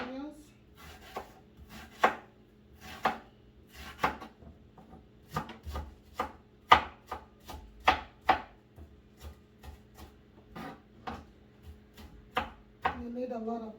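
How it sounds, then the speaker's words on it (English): A knife slices onions on a cutting board for gizdodo, about twenty sharp chops in an uneven steady rhythm, close and clear over quiet background hum. "So let me just slice some onions."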